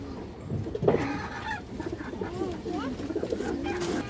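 A female Khoragola pigeon coos softly in a loose series of low murmuring calls, close by, amid restless movement and faint background noise.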